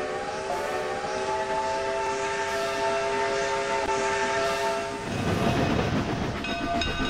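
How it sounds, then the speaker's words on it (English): A train passes on a railroad, its horn sounding in steady tones over rumbling wheels, then the rolling clatter of cars swells loudly near the end. "It's just the downhill local with Kent, followed by Sydney with the Limited."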